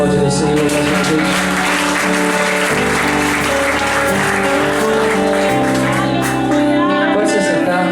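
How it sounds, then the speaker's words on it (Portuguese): Loud congregation applause fills a church service, layered over sustained music with steady tones that shift in pitch partway through, the clapping dense and continuous throughout. "Você pode aplaudir o Senhor mais uma vez."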